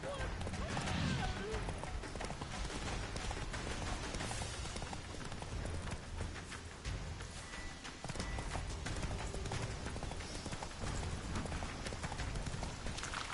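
Roach, a horse in The Witcher 3, gallops in a steady rapid clip-clop of hooves over a continuous dense game soundscape, loud and close, with voices speaking over it.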